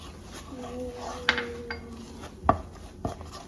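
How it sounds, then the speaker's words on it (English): A spoon scrapes and clinks against a pot while stirring melted marshmallow sauce, with a few sharp metallic knocks spaced through the quiet stirring. "Make sure you keep stirring or it will get burned"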